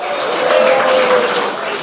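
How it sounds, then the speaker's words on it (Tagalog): Loud, continuous applause with shouts and cheers from a church congregation during a Sunday preaching service, sustained at full level for a couple of seconds. "Malakas na palakpakan, may kasamang hiyawan sa Diyos na mabuti sa lahat"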